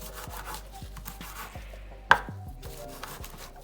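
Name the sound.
chopping food while cooking marinara sauce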